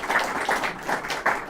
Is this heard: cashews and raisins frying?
no